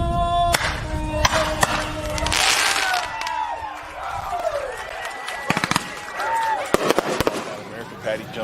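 Fireworks bursting at a small-town celebration in Woodson, Texas, with sharp cracks and booms scattered through the clip, loud and close, over crowd noise and voices.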